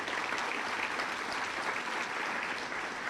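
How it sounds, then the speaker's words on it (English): Steady applause from an audience at a university downtown campus anniversary ceremony, a dense, even wash of clapping heard at a distance throughout. "Let's give them a round of applause for their good work."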